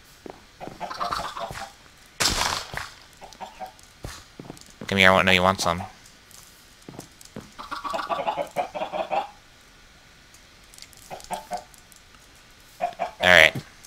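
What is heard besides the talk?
chickens clucking in Minecraft video game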